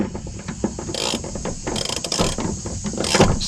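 A ratchet tightens a bolt on an IRS bushing of a 2019 Mustang GT, giving several quick bursts of clicking with short pauses between them, close and clear with no talk.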